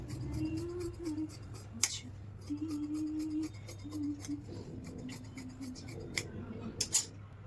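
Scissors cut fabric for trousers in a steady run of close, rhythmic snips, with a few sharper clicks and a low hum underneath.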